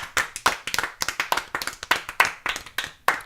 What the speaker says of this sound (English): you're one of the few people that actually clap for themselves